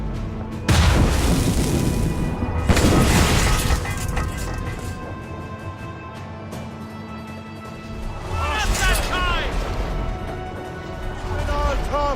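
Cannon broadside fired from a sailing warship in Assassin's Creed Rogue: two heavy booming blasts in the first few seconds, then a lower rumble, with shouted voices over the action.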